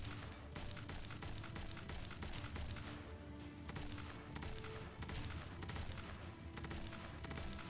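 Repeated heavy shotgun blasts in the Girls' Frontline game fire in a steady, rhythmic series of booming shots, each with a short decaying tail, faint and sustained over a dense combat background.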